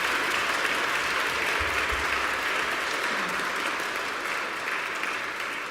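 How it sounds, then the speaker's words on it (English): Sustained applause from a church audience for youth orchestra cadets, a dense, even wash of clapping holding steady throughout at moderate loudness. "let's give the cadets another round of applause"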